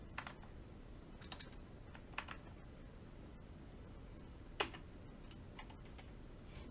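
Someone types on a computer keyboard in a quiet room, with scattered light key taps and a few short bursts of clicks over a low steady background hum, faint and close.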